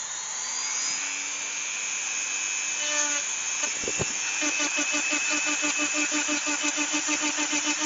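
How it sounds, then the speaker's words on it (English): A Dremel rotary tool engraves a random pattern into a vase, sped up so its motor becomes a high whine with rapid pulsing as the bit bites into the surface, steady and close. "So I just try to make a very random pattern with that Dremel."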